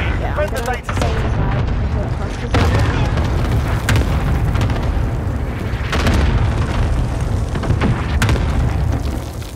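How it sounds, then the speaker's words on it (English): Cluster strike explosions from a first-person shooter, heavy booms and crackling blasts pounding steadily across the whole stretch, loud and dense with sharp bursts recurring every second or two, voices faintly underneath. "Enemy cluster strike incoming."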